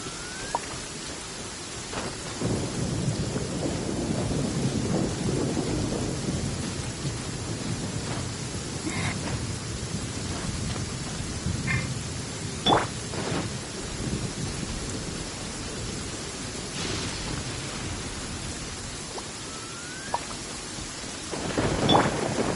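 Heavy rain pours steadily in a Genshin Impact game scene while rolls of thunder rumble through it, with a few sharper cracks standing out; no one speaks.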